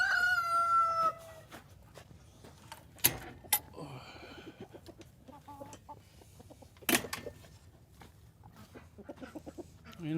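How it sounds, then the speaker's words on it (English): A rooster named Magnus crows once near the start in a farmyard with turkeys and ducks, a clear nearby crow followed by scattered clucks and clatters. "And Magnus the rooster."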